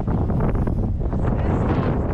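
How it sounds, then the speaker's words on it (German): Strong wind roars continuously across the microphone outdoors in falling snow, a loud, dense buffeting rush with no pauses and no voices. "Boah, der Wind."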